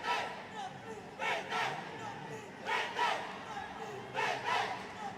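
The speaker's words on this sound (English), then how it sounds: "if you can hear, the crowd is chanting" A stadium crowd at a women's football match chants in repeated rhythmic surges, with a commentator's voice mixed into the broad, distant roar.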